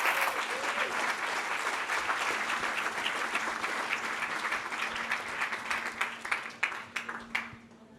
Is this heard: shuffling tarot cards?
no